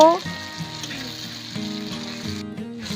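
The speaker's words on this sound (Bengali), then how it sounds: "এবার নেড়ে নিয়ে টমেটো পেঁয়াজ সব কিছু খুব ভালো করে ভেজে নেব" Chopped tomato and onion with a little salt frying in a pan, a moderate sizzle with tonal background sounds and occasional stirring knocks, no talk.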